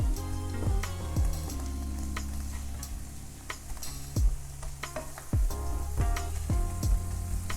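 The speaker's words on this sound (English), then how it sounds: "the butter is melting very slowly" Butter melts slowly in a pan over low heat for a French salmon en croute with spinach, giving a soft continuous sizzle broken by sharp metallic clinks and scrapes of a utensil against the pan.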